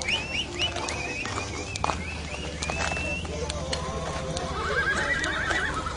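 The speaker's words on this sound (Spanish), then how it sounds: "Con cuidado, es que vienen todos los caballos." Horses pass along a street during a Ñuu savi festival in Santiago Tillo, hooves clip-clopping over the pavement while several neigh and whinny, with crowd chatter and people calling out all around.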